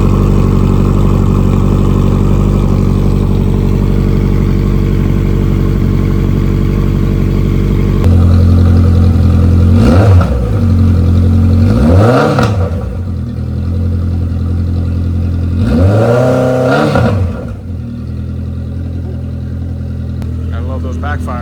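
A 2014 Honda CB1100 motorcycle engine idles loud and close while warming up, a steady low rumble that shifts pitch midway, with a few quick revs rising and falling over it.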